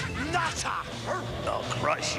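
A dog barks and yips in a few short bursts at close range, mixed with excited talking and a busy background of voices and music.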